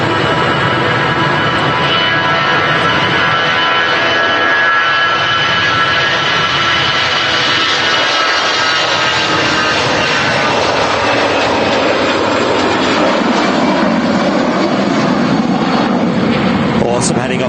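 An easyJet Airbus A319 jet bound for Malaga gives a loud, sustained engine roar with a rising whine, heard from an airport setting while a voice talks over it.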